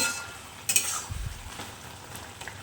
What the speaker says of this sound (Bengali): এরপর আমি ভালো করে একটু নাড়াঘাটা করে নেব